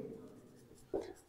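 A pen scratches out an equation in a brief, faint burst of writing, close and quiet, with a soft voice murmuring over it.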